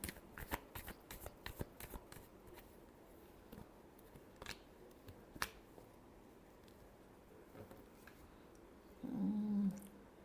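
A deck of tarot cards is shuffled close by in a quiet room, a burst of rapid riffling clicks at the start followed by scattered single card snaps, ending with a short low rustle.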